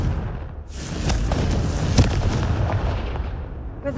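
A loud, booming explosion from the Confringo fire spell in Hogwarts Legacy, rumbling with dense crackling debris and a sharp peak near the middle, then trailing off alone without speech.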